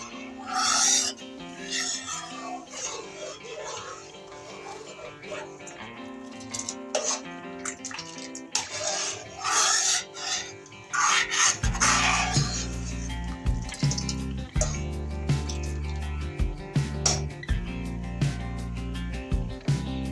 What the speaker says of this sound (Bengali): এবার এটি নাড়াচাড়া করতে থাকবো এত নিচে লেগে যেতে পারে